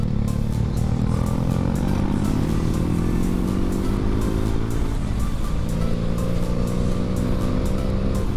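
An old motorcycle, said to date from around 1921, rides at speed; its engine drones loud and close throughout, the pitch falling and then rising again as it shifts.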